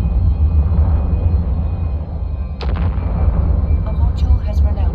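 Missile launcher firing in EVE Online, a deep continuous rumbling barrage with a sharp burst midway and small crackling pops after, loud and close.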